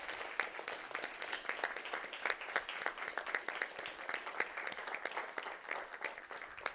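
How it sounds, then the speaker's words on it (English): Steady audience applause at a speedrun charity marathon event, dense continuous clapping from a crowd filling the whole stretch at moderate level with no speech over it. "Give them a round of applause, guys."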